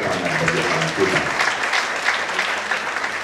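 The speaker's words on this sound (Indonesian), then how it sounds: "Kita berikan tepuk tangan bagi Tuhan kita." Congregation at a church New Year service applauds steadily, a full, close wash of clapping with a few voices and cheers mixed in.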